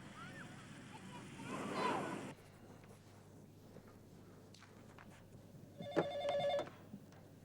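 A telephone rings twice in short electronic bursts in an office, faint at first and then clearer and closer, over steady background hiss with some earlier noise.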